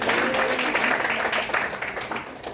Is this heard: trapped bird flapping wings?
no